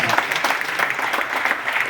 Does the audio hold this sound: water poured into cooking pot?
no